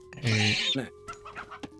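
Chickens cluck in Age of Mythology: Retold, a short loud burst of squawking clucks followed by fainter, scattered clucks and game sounds.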